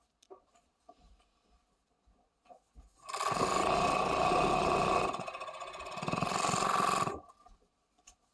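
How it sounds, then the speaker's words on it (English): A serger overlocks a fabric seam on a pair of shorts, running in one loud, continuous burst of about four seconds with a brief dip in the middle. Soft handling noises come before and after. "And you want to serge down this side with the angle."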